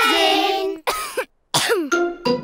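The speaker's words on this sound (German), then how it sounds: "Petros Husten ist ansteckend." An animated cartoon pig character coughs in several harsh, throaty bursts separated by short pauses, loud and close.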